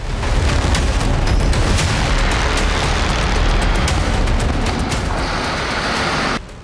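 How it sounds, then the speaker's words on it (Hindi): Artillery cannons firing during the Russia-Ukraine war, a loud, dense barrage of heavy booms that blur into continuous rumbling with sharp repeated blasts before cutting off abruptly near the end. "तोपें आग उगल रही हैं।"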